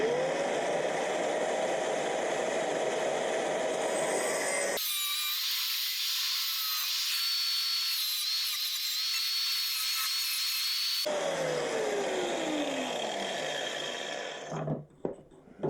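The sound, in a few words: filing burrs off edges of steel bracket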